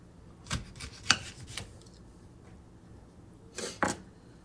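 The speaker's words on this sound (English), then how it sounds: "So the outer skin is soft. And these sharp knives slicing through like butter." A sharp knife cuts through the soft outer skin of a dragon fruit in a few brief, close crisp strokes, with quiet gaps between the cuts.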